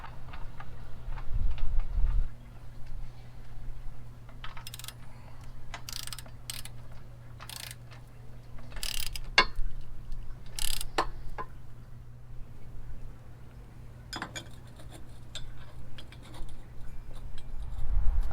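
A ratchet clicks in quick bursts while bolts are tightened onto a trailer-mounted bike rack near an electric jack, with sharp metallic clicks scattered among quieter stretches of low background hum.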